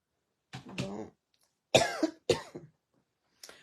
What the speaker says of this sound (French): je tousse une petite affaire encore